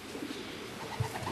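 Racing pigeons coo softly at a loft as they land after a race, a few low, rounded coos, faint and near, over a quiet background with no speech.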